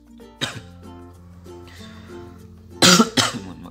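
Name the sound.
cough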